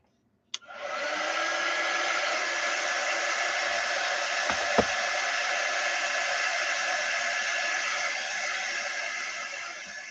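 A hair dryer blows steadily on a homemade craft Christmas gift, a loud continuous airy whir that starts abruptly and runs unbroken for the whole stretch with a couple of faint clicks midway.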